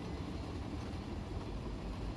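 A train rolling on flat track in the Run 8 train simulator game: a steady, low, continuous rumble with no breaks, fairly quiet and heard alone.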